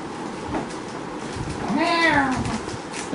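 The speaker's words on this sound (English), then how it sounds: "Where's that cat?" A cat meows out of sight down a hallway, one drawn-out, wavering call rising and falling in pitch, muffled by distance, over a faint room hum.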